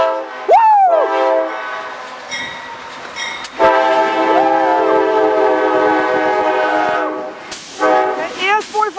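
CSX freight locomotives running as light power, an AC4400CW numbered 506 leading with an ES44DC, sound a series of loud, close multi-tone horn blasts while excited voices whoop and shout between them.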